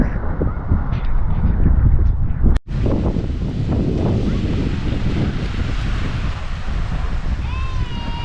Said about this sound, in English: The wind's picked up, so it's been throwing sand in our eyes all day.